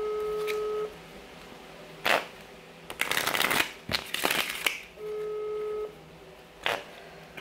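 A regular deck of playing cards is shuffled by hand in several quick riffling bursts, close and crisp, separated by pauses, while a telephone call tone beeps in the background.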